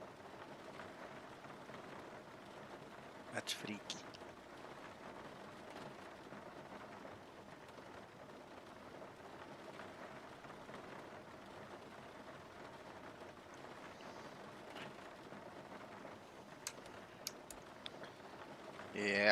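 Steady, faint patter of simulated rain falling on an aircraft in a flight simulator running the Zibo mod, with a few brief louder taps, and a voice speaking briefly over it.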